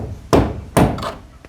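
Nails hammered into wood, two loud, sharp thuds about half a second apart followed by fainter lighter taps, close by with no talk.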